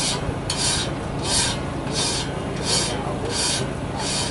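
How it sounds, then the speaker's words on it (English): Steady, close rasping of a metal file worked across the teeth of a sawmill blade, repeating in regular strokes roughly every half second with no talk over it. "Right now he's filing his blade."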